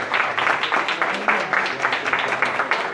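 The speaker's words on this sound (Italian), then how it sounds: "al quale io indirizzerei un grandissimo applauso" A jazz club audience at the Cotton Club in Rome claps in a brief, moderately loud burst, with a voice talking over part of it.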